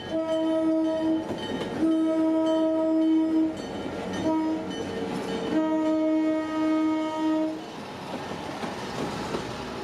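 An excursion train rolls past close by, its horn sounding in several long blasts over the steady rumble and clatter of the passing cars, fading to wheel noise at the end.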